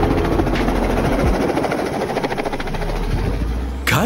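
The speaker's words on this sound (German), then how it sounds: "Einen Hubschrauber auf dem Dach eines LKWs landen?" Helicopter landing on the roof of a truck: a loud, steady rotor and engine roar with a dense broadband rumble and faint rhythmic beating, continuous throughout, with a brief burst of noise near the end.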